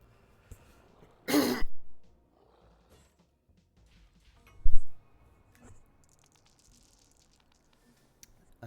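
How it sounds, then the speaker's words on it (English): A person with a cough from waking up clears the throat and coughs close to the microphone: one harsh burst, then a shorter second one a few seconds later, with near silence between. "Sorry, I woke up with a bit of a cough."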